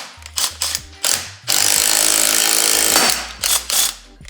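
A pressing tool pops the upper and lower ball joints off a Ski-Doo/Lynx snowmobile's suspension during a lift-kit install: several short clicking ratchet strokes, then a loud, sustained grinding, straining burst, followed by more ratcheting clicks close up.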